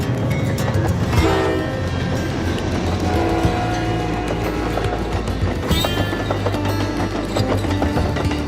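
HO scale model trains run on a BNSF layout, a continuous close rumble of wheels on track with horn-like tones sounding over it throughout, loud and steady.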